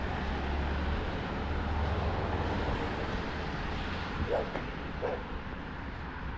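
On an outdoor walk in Lewiston, Maine, a tethered dog gives a couple of short barks at a moderate distance over steady background noise.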